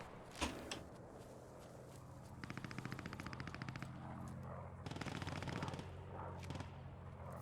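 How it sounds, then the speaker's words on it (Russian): Bursts of machine gun fire with single rifle shots in the Post Scriptum war game, a sharp shot near the start and two sustained rapid rattling volleys, mid-distance, over steady low battlefield rumble. "Райлик стреляет."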